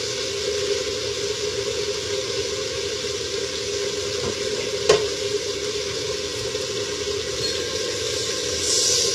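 Meat fries steadily in a pot, a loud continuous sizzle with a faint stirring scrape and one sharp clink of a utensil near the middle, heard alone without talk.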